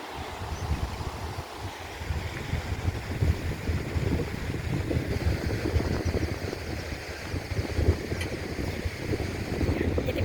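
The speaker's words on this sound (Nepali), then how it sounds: "हावा मन्द मन्द चलिरहेको छ, चिसो रमाइलो छ।" Wind blows steadily across a footbridge near a village, a constant rumbling gust with buffeting noise on the microphone, moderately loud and unbroken for the whole stretch, with no talk over it.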